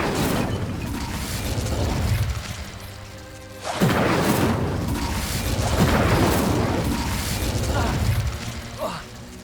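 An Incendio fire spell cast in the Hogwarts Legacy video game bursts out as a loud whooshing boom around the four-second mark, set against dense, continuous game sound effects and mechanical clatter.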